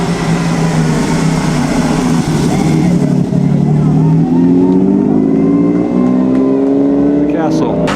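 A classic Ferrari race car passing at the Mille Miglia, its loud engine rising in pitch as it approaches and accelerates away, with people talking excitedly over it.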